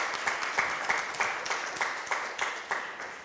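An audience at the Pitch4k contest in October 2023 gives a presenter another ovation: steady crowd clapping with a pulsing, rhythmic beat of sharper claps roughly three per second, moderately loud throughout.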